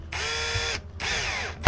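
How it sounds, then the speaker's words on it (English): A power drill drives screws into an SVK Strat electric guitar fitted with Fishman pickups, two sustained whirring bursts, the second winding down, with a sharp click at the end; close and fairly loud, no talk. "And I got my chuck set way too tight, so we adjust that down so that it won't strip these screw holes out."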